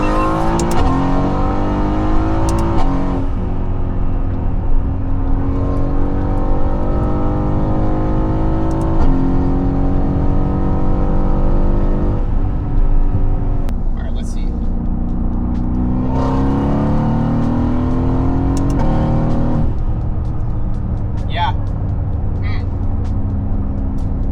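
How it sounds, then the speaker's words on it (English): Deep V8 exhaust note from a Mercedes-AMG GT S, heard from inside the car as it accelerates through gears. The burbling drone rises and falls in repeated revving pulls, loud and steady throughout, with no talk. "Get to hear the AMG exhaust note"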